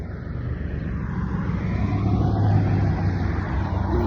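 Street traffic moves across the road, a steady low engine rumble from passing vehicles that swells toward the middle and stays close and continuous.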